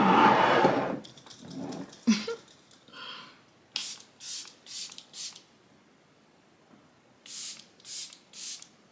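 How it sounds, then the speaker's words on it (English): Several short hissing bursts of makeup setting spray onto a face, first one after another, then a pause and three more bursts, close and fairly loud, with soft rustling in between. "Now we need to drench my face in setting spray."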